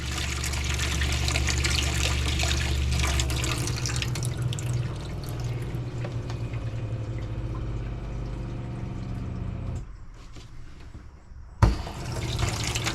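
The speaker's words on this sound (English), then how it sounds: "And you hear the pump going." A newly installed RV water pump in a vintage camper runs with water flowing steadily from a tap, a close continuous rush and hum that cuts off briefly near the end before resuming with a sharp knock.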